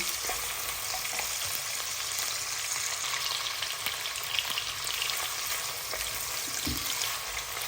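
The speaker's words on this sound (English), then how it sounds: "And we are going to fry these on high heat until they're golden brown." Onions fry on high heat in a pan for saag aloo, making a dense, continuous loud sizzle and crackle with occasional stirring scrapes.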